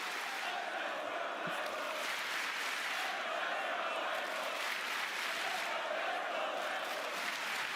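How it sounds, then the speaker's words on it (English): A crowd at a Rainbow Six season reveal event cheers and applauds in a broad, steady roar with rising swells, heard at a moderate distance with no clear talking over it. "Thank you so much for the cheering."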